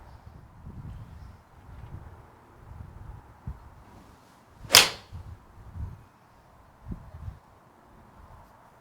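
A single sharp crack of a TaylorMade iron, P790 or M3, striking the ball cuts through quiet outdoor background noise and faint wind.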